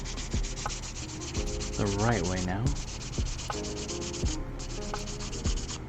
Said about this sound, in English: I do feel like I find myself sanding a lot with high grades.